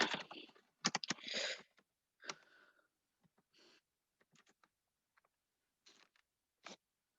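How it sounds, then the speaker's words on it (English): Quick bursts of computer keyboard typing, a dense flurry at first and then scattered isolated key clicks, close and clear in a quiet room with no talking. "Let me just go ahead and type this in."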